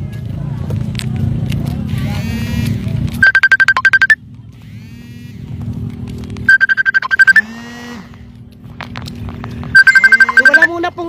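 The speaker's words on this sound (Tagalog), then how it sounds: "Hindi ko po masasagot ang tawag kasi si Arialea po ay naka-live ngayon." A phone rings with an incoming call in three electronic ringtone bursts, loud and close. Between them comes outdoor noise around a helicopter crash rescue in a field in Nueva Ecija, with vehicle rumble and movement.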